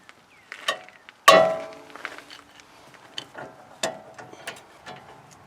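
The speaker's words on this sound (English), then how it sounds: "And I'm going to grab a breaker bar." A breaker bar works on a 19 mm ball joint nut, soaked in penetrating oil, on a Nissan Titan lower control arm. One sharp loud crack is followed by scattered metallic clicks and rattles nearby in an otherwise quiet space.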